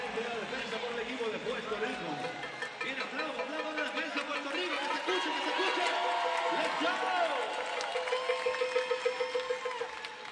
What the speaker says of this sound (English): Crowd trying to increase the pressure for Cuba.